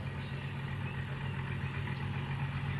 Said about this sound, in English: tell them to switch the engine off